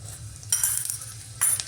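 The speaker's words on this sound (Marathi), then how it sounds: "जिरे छान तडतडल्यानंतर" Cumin seeds crackle and sizzle in hot ghee in a pot, a fine steady frying hiss with two brighter bursts of spattering over a low background hum.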